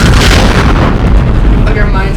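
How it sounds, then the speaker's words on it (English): A loud, dense explosion effect with heavy booming rumble, sustained and close, like artillery blasts, filling the whole moment and dominating everything else. "You should add like an explosion thing here."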